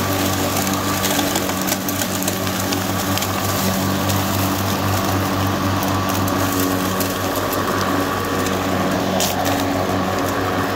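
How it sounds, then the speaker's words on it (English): A battery-powered EGO 56V Select Cut or Kobalt 80V lawn mower runs steadily while cutting grass and sucking up fallen leaves, its motor a continuous close whir with rustling, crackling debris throughout. "It is cutting the lawn while it's also sucking them up."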